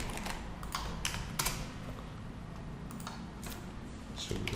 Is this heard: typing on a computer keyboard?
yes